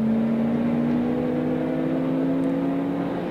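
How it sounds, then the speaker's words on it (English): A Mercedes-AMG race car accelerates down Conrod Straight at Bathurst during the 2017 Bathurst 6 Hour, its loud, sustained engine note climbing gradually in pitch as it pulls hard, with no voices over it. "I think the AMG is going to stretch its legs just a little bit here down Conrod Straight."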